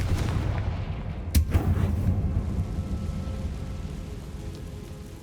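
A fire spell blast from Hogwarts Legacy, heard as a single sharp, loud explosive crack followed by a rumbling decay over a low background, with no talk.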